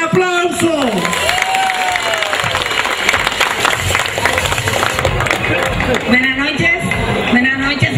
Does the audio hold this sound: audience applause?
yes